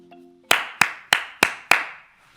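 A single person claps five slow, evenly spaced times, each sharp and close, following a brief faint tone at the start, in a quiet studio setting.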